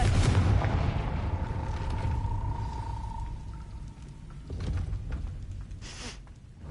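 A Confringo blasting spell bursts in Hogwarts Legacy, a loud, heavy boom with a rumbling roar that holds steady for several seconds before thinning out, with brief sharper cracks later on.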